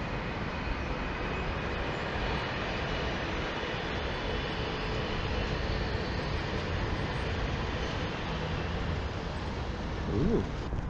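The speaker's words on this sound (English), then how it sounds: "Good to see some trains from up here" A continuous low rumble of a train rolling past at a distance, steady and unbroken throughout.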